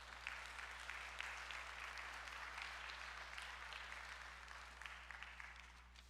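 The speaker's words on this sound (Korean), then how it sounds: "목사님 나오시면은 우리 박수로 환영하도록 하겠습니다." A church congregation applauds in welcome of a pastor, a soft, steady wash of many hands clapping over a low electrical hum.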